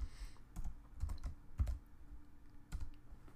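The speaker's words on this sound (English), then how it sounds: "So I'm just going to type a couple characters." A few characters are typed on a computer keyboard, with quiet, sparse, irregular key clicks close by and no talking.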